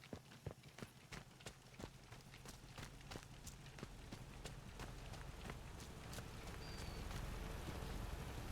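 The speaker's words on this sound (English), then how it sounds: "why is it raining through the roof?" Rain falls through a roof in the video game Sniper Elite 5, making a steady close patter broken by sharp, irregular drips, with no talking.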